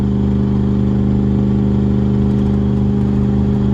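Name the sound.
old truck engine pulling up a hill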